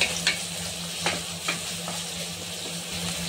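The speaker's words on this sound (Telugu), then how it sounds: "చేసి పెట్టుకున్న ఉల్లిపాయ ముక్కలు వేసుకొని కలుపుకోవాలి" Chopped onions stirred in a frying pan for aloo samosa filling, a steady close sizzle with a few scraping strokes of the spoon and no talk.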